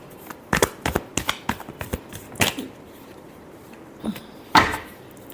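Tarot cards are shuffled by hand in a quick series of crisp riffling snaps and taps, then a few slower separate slaps; close and moderately loud with no talking.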